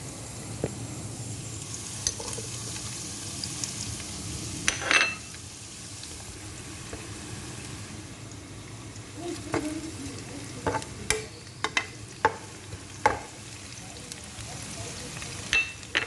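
Onions fry in a pan while they are stirred. A soft, low sizzle runs underneath scattered scraping and clinking taps of a utensil against the pan, close by and fairly quiet.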